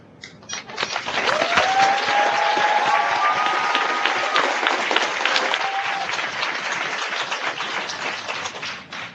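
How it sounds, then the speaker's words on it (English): Loud, sustained applause from a large crowd, dense clapping holding steady for several seconds with some cheering mixed in. "please join me in giving a warm round of applause to Pro Football Hall of Famer, Mr. Emmitt Sm"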